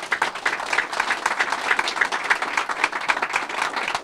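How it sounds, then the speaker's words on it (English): A room of attendees at a MOKAN training announcement in St. Louis gives a round of applause, brisk steady clapping from a modest crowd, close and continuous throughout. "Can we all give them a round of applause?"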